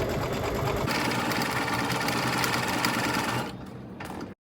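An embroidery machine stitches an applique design with a fast, even mechanical whir and needle rattle, running continuously before winding down and stopping just before the end.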